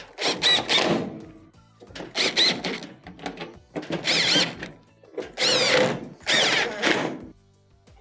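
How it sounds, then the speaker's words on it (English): A power driver drives 1/4-inch screws back into the console of a GE dryer, four loud whirring bursts about a second long, each separated by a short pause, close up with no talking. "Reinstall the 1/4-inch screws around the perimeter."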